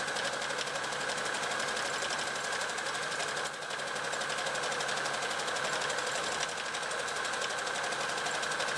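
Domestic sewing machine stitching steadily through many layers of fabric at a reversible handbag's meeting seams, a continuous close mechanical whirr with a brief dip midway, no talking.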